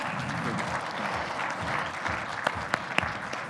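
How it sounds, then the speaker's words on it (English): An audience at a manufacturing conference and awards event claps for a keynote speaker, a continuous crowd patter with a few sharp, louder individual claps standing out near the end. "Can we clap for him once again,"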